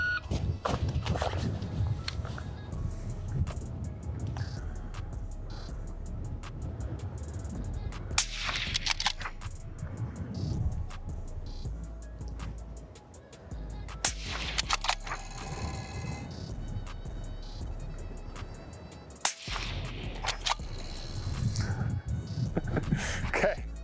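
Shots from a 6.5 Creedmoor sniper rifle on a qualification course: a few sharp, loud cracks spaced several seconds apart, with faint outdoor shuffling and handling noise in between.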